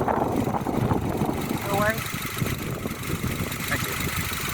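A Mini engine idles with a steady mid-low rumble and a faint knock, carrying on unbroken beneath a person talking close by.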